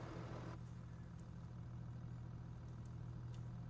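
Kubota M8 tractor engine idling in Farming Simulator 22, a steady low droning hum that holds constant throughout, faint and even, with a soft click near the start.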